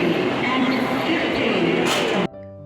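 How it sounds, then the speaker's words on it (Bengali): The Saraighat Express arriving at platform 9 at Howrah station: a loud, steady rumble of rolling carriages that cuts off abruptly, leaving a quieter tonal hum. "আর গাড়ি চলে এসেছে, গাড়ি দিয়ে দিয়েছে 9 নম্বর প্ল্যাটফর্মে"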